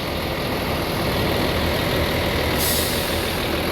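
Executive-class NPM V56 bus with a Hino engine pulling away, a steady loud diesel rumble with broadband road and engine noise throughout and a brief hiss of air near the end.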